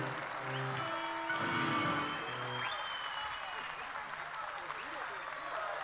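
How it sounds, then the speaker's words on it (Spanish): Crowd applause at a live concert in La Plata, Buenos Aires, a broad rush of clapping and crowd noise mixed with voices and a brief tonal sound early on. "un aplauso, Peña"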